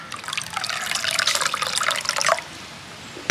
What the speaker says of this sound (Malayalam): പച്ചവെള്ളം ഒഴിക്കണം